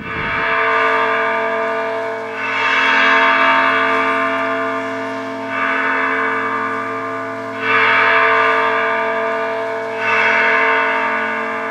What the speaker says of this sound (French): En fait, une cloche émet tout un bouquet de notes